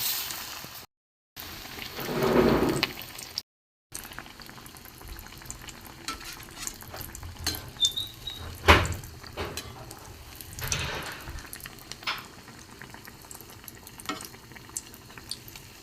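Fish chops coated in gram flour batter frying in very hot oil, a steady crackling sizzle with bubbling bursts and occasional clatter, close and moderately quiet.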